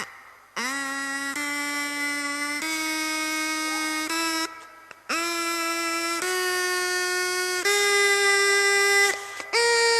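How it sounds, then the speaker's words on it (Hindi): A homemade pipe blown continuously while being cut shorter, giving loud sustained harmonic tones that step upward in pitch in distinct jumps, with brief breaks between notes. "अब इसको मैं फूंकता रहूंगा, इसमें ध्वनि पैदा होती रहेगी और साथ साथ इसको क्या करूंगा, इसको काटता रहूंगा"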